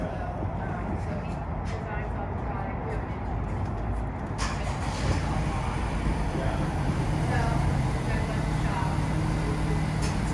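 A Honda Civic Si engine cranks and starts, then settles into a steady low idle rumble, heard close and moderately loud.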